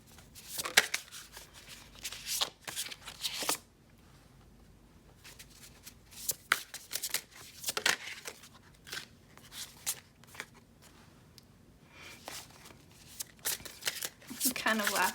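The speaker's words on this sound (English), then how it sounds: "we're just shuffling your tarot on camera today" Tarot cards riffled and shuffled by hand at close range, repeated crisp flurries of papery flapping with brief pauses, soft and intimate.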